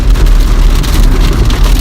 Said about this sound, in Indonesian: Hujan Beb, maaf nih kalau banyak noise.